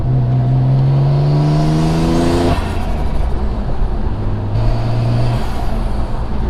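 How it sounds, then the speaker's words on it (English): A Mitsubishi 3000GT VR4 with twin turbos revs hard on a dyno, its tone climbing steadily for a couple of seconds before backing off, then a second, shorter rev follows; loud and close with no talking. "these turbos sound great"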